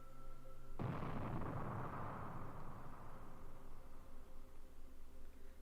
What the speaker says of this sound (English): this time I heard an explosion coming from the track outside.